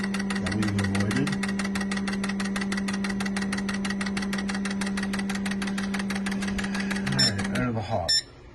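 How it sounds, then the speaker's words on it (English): An engine idles with a misfire from a dead injector, a steady close rhythmic chugging and knocking that runs evenly for several seconds before it stops abruptly. "So there's one misfire."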